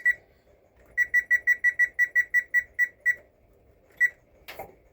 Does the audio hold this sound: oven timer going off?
yes